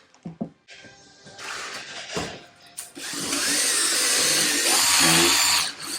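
An electric polisher works G3 wax into a Land Rover headlight, a steady high-pitched motor whine that starts in short bursts, then builds to a loud, continuous run before easing off near the end.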